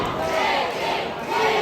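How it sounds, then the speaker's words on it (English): A wrestling crowd roars and cheers behind the challenger, a loud sustained wall of voices with rising chant-like swells across the whole stretch. "Listen to this crowd now getting behind the challenger."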